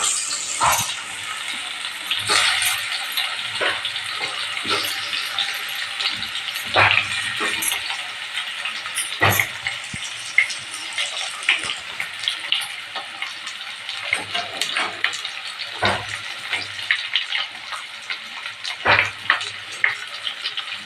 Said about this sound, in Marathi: काय एवढे जास्त तेल टाकून नाही तर थोडेच तेलामध्ये तळते